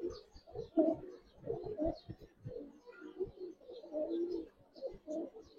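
Giribaz and coloured pigeons coo close by in soft, throaty bursts, with several overlapping rolling calls and short pauses between them.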